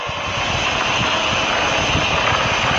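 Falcon 9 rocket engines roar at full power during launch ascent past max Q, a loud, steady, broadband rumble filling the whole clip without a break.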